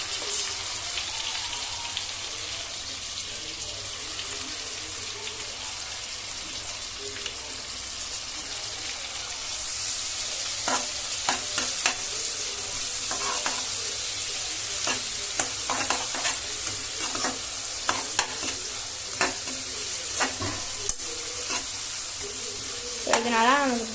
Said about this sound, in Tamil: இதனால நமக்கு கோல்டன் ப்ரௌன் ஆகிற வரைக்கும் நம்ம நல்லா வந்து மிக்ஸ் பண்ணிக்கணும்.